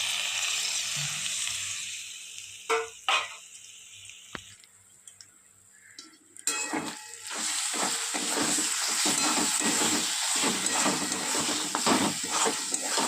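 Shrimp drop into a pan with pointed gourd paste and begin to fry: a quiet stretch with a few clatters gives way to a steady, close sizzle with intermittent stirring scrapes.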